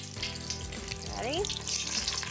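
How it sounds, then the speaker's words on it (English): Snacks with pinched open corners dropped into hot oil for Super Bowl party food, giving a loud, steady broadband sizzle and bubbling throughout, with a voice briefly rising over it. "It's gonna be loud. It's gonna sizzle good."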